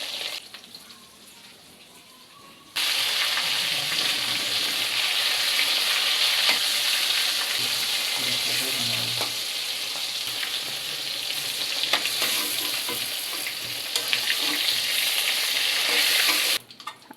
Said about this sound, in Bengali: পটলগুলোকে ভালোভাবে ভেজে নেব।